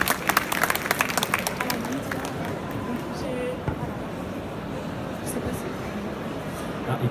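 An audience at a Q&A event in Brussels bursts into applause, dense clapping strongest at the start and then thinning into a softer, steadier patter with a little crowd murmur.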